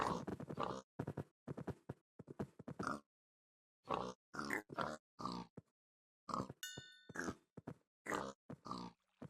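Pig grunts from livestock in a Minecraft Skyblock modpack game, a run of short separate snorts and oinks with brief silent gaps, close and fairly loud, plus one short chime-like game sound midway.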